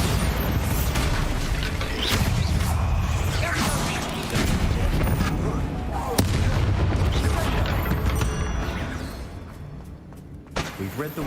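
A Bombarda explosion spell cast in Hogwarts Legacy sets off heavy booming blasts over loud, continuous game combat noise, with a sharp impact near the middle and clattering debris toward the end.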